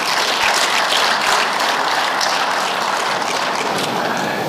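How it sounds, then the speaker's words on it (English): Applause from a parliamentary plenary audience at a conference session, a dense, steady wash of many hands clapping at once, loud and sustained throughout with no talk over it. "may I please pray for a wonderful round of applause for our presenters."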